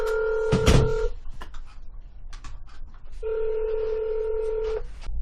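A phone dials a county attorney's office number, giving a rapid run of keypad beeps followed by two long steady ringback tones separated by a pause, loud and close.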